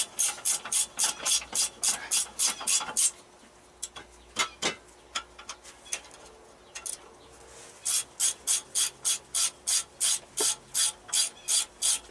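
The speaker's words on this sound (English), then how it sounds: "I'm just getting them snug because that's a gear wrench" A gear wrench ratchets in quick, even bursts of clicks while snugging caliper bracket bolts on a Chevy Blazer during wheel bearing work, with a quieter pause of scattered metal taps between two strong runs.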